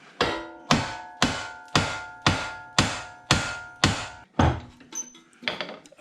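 Eight heavy, evenly spaced metallic strikes of a 3-pound hammer on a car ball joint, each loud ringing blow decaying quickly, followed by a few irregular clanks and knocks.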